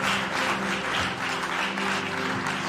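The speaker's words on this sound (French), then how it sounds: "bel applaudissement." A church congregation claps in dense, even applause that holds at a steady moderate level from start to finish, with no voices standing out.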